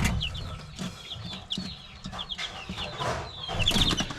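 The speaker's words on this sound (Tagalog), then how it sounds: "papakita ko muna yung mga 3 weeks, magti 3 weeks na sisiw natin mga tropa, no? Ito sila." Three-week-old chicks on a backyard farm chirp in a busy cluster of short, high peeps, moderately close, with soft rustling and shuffling underneath.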